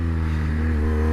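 A BMW R1200 R motorcycle engine hums steadily with a low, even drone as the rider shifts down a gear, with no clear rev change in the brief moment captured.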